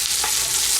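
Chopped onion being sautéed in a pan of oil, a brief burst of close sizzling with a stirring scrape partway through, steady and unbroken, no talking.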